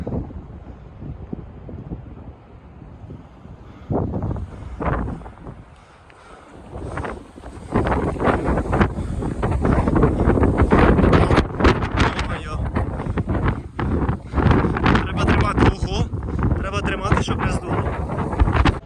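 Strong wind buffets the microphone on an exposed hillside in Georgia, roaring loudly and gusting in waves over scrambling footsteps, with someone speaking briefly early on.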